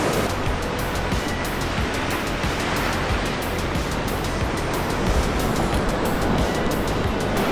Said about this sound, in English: That's the sea.